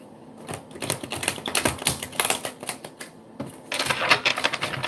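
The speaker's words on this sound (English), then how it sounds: "Final shuffle." Rapid crisp riffling and snapping of tarot cards being shuffled, a couple of bursts with a short pause between, close and fairly loud.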